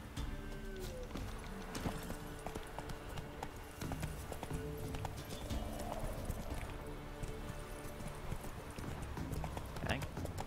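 Steady rhythmic hoofbeats of a galloping horse in The Witcher 3: Wild Hunt clatter throughout, with a brief whinny, under someone talking.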